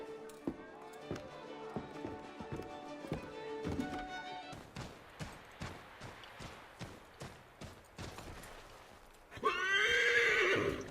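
Horse neighs loudly near the end of a gameplay scene from Assassin's Creed 3, preceded by a steady run of hooves clip-clopping over background music, with a voice speaking briefly.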